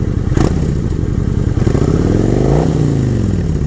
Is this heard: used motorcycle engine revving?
yes